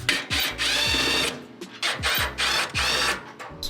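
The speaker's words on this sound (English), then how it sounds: "First, let's remove the 2 Phillips screws." Small electric screwdriver or drill removing two Phillips screws from the thermostat of an LG dryer, with repeated whirring bursts of the motor separated by short pauses, close and fairly loud.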